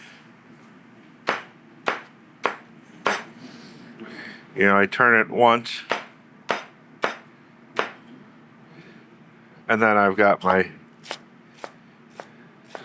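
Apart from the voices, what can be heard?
knife chopping celery into small dice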